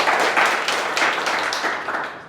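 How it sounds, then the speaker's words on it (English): An audience at a sales talk claps for volunteers in a short, fairly close burst of scattered hand claps that thins out and fades over about two seconds. "Round of applause for our volunteers there."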